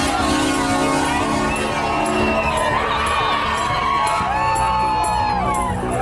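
A large crowd at an outdoor freedom rally cheers, whoops and shouts together in a loud, dense roar, with voices rising and overlapping throughout.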